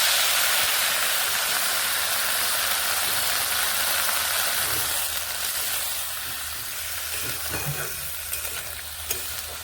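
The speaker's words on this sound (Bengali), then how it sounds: "এই এখানে আমি একটু জল অ্যাড করব" Flat beans frying in a pan give off a loud, steady sizzle when a little water is added, the hiss easing slightly toward the end with a few soft stirring knocks; no one speaks.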